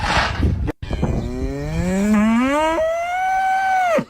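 A cow lets out one long, loud moo that rises in pitch and holds steady for several seconds, heard up close and alone after a brief knock at the start.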